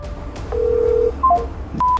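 Telephone keypad dialing, a series of short touch-tone beeps of varying length and pitch, close and clear over a faint background hum, with no answer.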